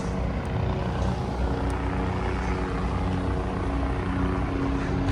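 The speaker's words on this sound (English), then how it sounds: "Noisy helicopter." A noisy helicopter flies over Seattle's waterfront near the Olympic Sculpture Park, a continuous low droning thrum with steady rotor rumble and no speech, staying consistently loud.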